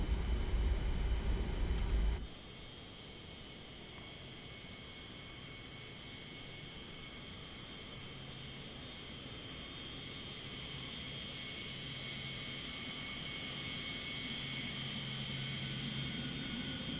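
An FSS Super 27 jet taxiing in a flight simulator game: a steady, loud turbine whine and hum with high tonal lines that swells slightly over time, after a brief low rumble at the start.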